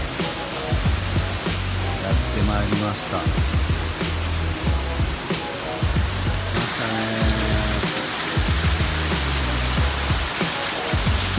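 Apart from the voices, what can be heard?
rain falling at the start of rainy season, Yakushima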